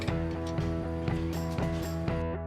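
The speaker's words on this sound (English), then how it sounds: "we're just going to loosen the fairlead bolts" A ratchet loosens the fairlead bolts for a license plate relocator bracket, making a close, fast, steady run of metallic clicks in even repeating bursts that continue through the whole clip with no talking.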